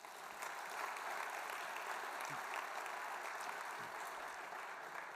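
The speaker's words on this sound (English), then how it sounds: "give him a round of applause" Audience applause during a keynote at a community symposium: a steady, continuous patter of many hands clapping, fairly faint and distant, with no talking over it.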